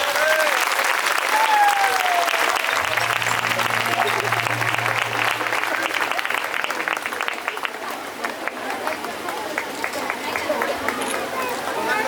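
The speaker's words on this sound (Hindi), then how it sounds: "ताली बजाइए जोरदार।" Loud, sustained applause from a large crowd at a bishop's consecration in a church, steady clapping continuing throughout with crowd murmur and voices mixed in beneath it.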